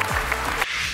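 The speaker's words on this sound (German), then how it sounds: "Großen Applaus für Mathis und für Johannes." Studio audience applause at a German TV quiz show, a dense burst of clapping heard briefly and close, with no one talking over it.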